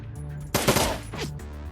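Pistol shots in the video game Dragonfall, a quick burst of sharp gunfire followed by a shorter second report, loud and close over a steady game background tone.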